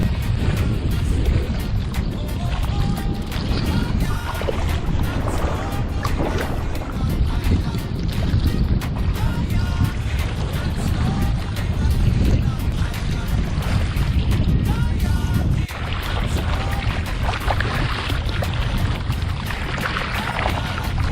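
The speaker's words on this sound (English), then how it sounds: "I'm gonna walk my kayak for a while around this side of the island" Kayak hauled on foot through shallow water around an island shoreline, a continuous loud wash of water and wind buffeting with no clear breaks.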